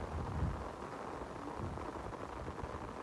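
Rain falling steadily across an open farm field, with gusty wind adding a broad, constant rushing hiss and low rumble throughout, moderately loud and with no voices.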